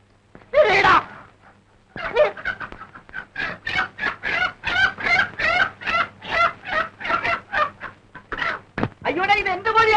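Hen clucking in an old Malayalam film soundtrack, a rapid series of sharp, evenly spaced clucks, loud and close, after a brief opening squawk and a short pause.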